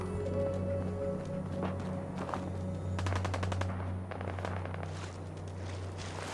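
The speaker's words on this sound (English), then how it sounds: "Sounds like gunfire." Fallout 4 gunfire in the ruins of Concord: rapid automatic bursts crackle out in quick volleys over a steady low ambient hum, with scattered single shots and footstep-like thuds between them.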